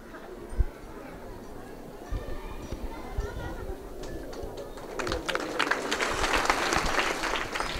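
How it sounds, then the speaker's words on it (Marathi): An audience at a Marathi kirtan gathering claps to welcome guests. A few scattered claps under a voice on a sound system build into fuller, louder applause toward the end. "टाळ्या वाजवून त्यांचं स्वागत करायचं आहे."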